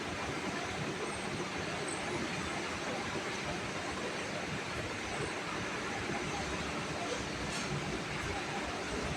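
A train on the Badarpur to Guwahati line rushes along at full speed, a steady broadband roar with rumbling low end that holds evenly throughout, close by.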